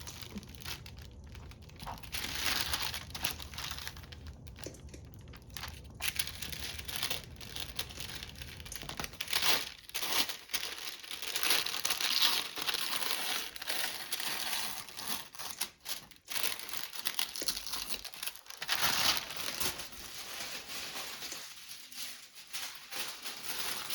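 Tissue paper crinkled, rustled and torn close up, a continuous dense crackle with irregular bursts and pauses running throughout, no talking.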